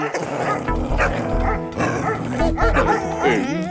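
A cartoon dog barks and yips in quick, near bursts with whimpering tones, set over a steady, busy backing of animated-show sound and music.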